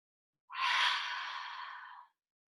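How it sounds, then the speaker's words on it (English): A single deep sigh-like breath during a slow yoga flow, a long audible exhale that rises quickly and fades over about a second and a half, close and clear with no talk around it. "deep breath."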